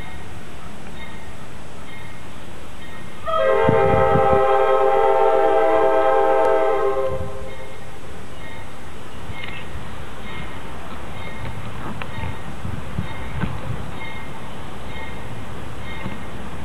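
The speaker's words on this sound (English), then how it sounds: "the intermodal train." An intermodal freight train rumbles past with a long, loud multi-tone horn blast early on, then fades into steady rolling rail noise.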